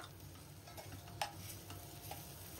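Ginger garlic paste fries with onions in a pan for mutton curry, a low steady sizzle with a single sharp clink of a spoon near the middle and a softer tap later.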